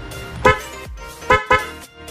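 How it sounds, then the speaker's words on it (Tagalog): Two G-Star car horns sound together on a horn tester in three short, loud blasts with a rich, buzzy tone, the first alone and the last two close together, separated by quiet pauses. "Yan yung sample ng ating G-Star horn. Yan yung sa kalakas, no?"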